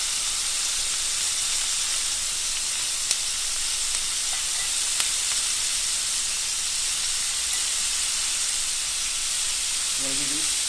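Steak bites sear in a hot oiled pan, giving a constant, dense hiss and sizzle with only a couple of faint ticks and almost no variation over the whole stretch.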